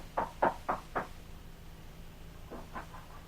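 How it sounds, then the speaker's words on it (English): Knocking on the front door of a home: four firm raps in quick succession, a pause, then three lighter knocks, heard fairly close in a quiet room. "he raps on the door of Jim's home"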